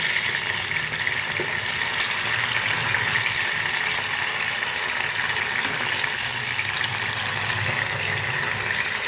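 Hilsa fish pieces slid into a pot of boiling water tinted with turmeric, under a steady, loud bubbling rush that holds evenly from start to finish with no talking.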